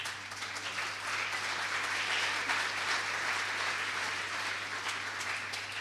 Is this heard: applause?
yes